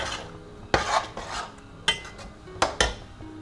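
Tomatoes stirred into masala in a pan, with a spoon scraping and knocking against the metal in several distinct clatters over a low background, loud and close, with no talk.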